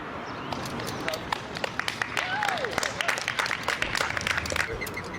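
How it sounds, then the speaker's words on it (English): Outdoor crowd of onlookers cheering and clapping for a woman returning to the ground from a flagpole climb, with scattered claps, whoops and a lively murmur under a voice speaking over it. "Bree was even greeted with cheers from onlookers after returning to the ground."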